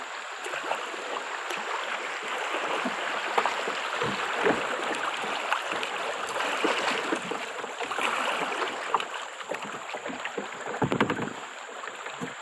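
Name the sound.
river rapids while kayaking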